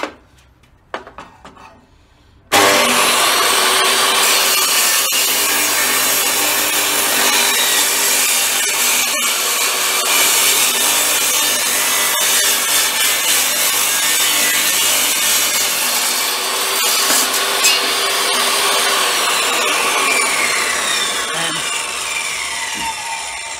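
A power saw cuts steadily through small wooden blocks for a long continuous stretch, loud and close, after a brief quieter moment of handling at the start.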